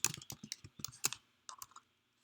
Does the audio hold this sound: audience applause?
no